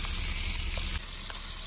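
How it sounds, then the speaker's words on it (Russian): Ground meat sizzling in an open frying pan, a dense close hiss with a faint stir or scrape near the middle, followed by a slightly quieter sizzle. "пока без крышечки, пока, чтобы фарш у нас со всех сторон взялся, прожарился"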